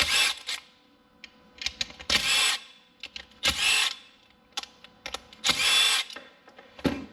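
A power tool spins out 5/16 bolts while a car alternator is torn down: several sharp, close bursts of high whirring, some longer and some brief, with small clicks and clatter between them.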